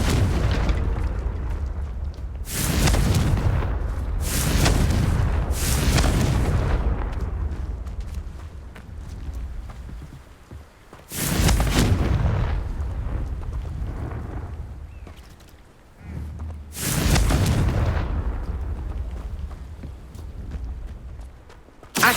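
Loud, booming Confringo blasting-spell explosions from the Hogwarts Legacy video game, four big bursts spaced several seconds apart, each with a long rumbling decay.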